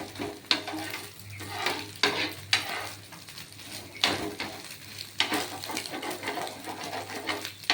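Egg whisked for an omelette in a pan during egg tarka preparation: rhythmic utensil strokes scrape and tap close up, repeating roughly every second over a faint sizzling hiss, with no talking.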